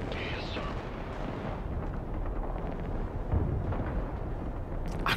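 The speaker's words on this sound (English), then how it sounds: "I really do like the rocket artillery in this" Rocket artillery fire in the video game Broken Arrow, a dense rumbling barrage of blasts and booms rolling continuously at mid distance, with someone talking over it.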